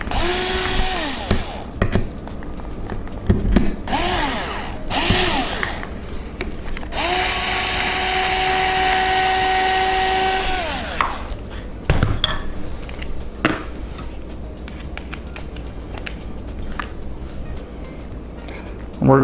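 A drill revs in several short bursts, then runs steadily for a few seconds through a metal pan, catching an earlier drilled hole, with people talking before and after.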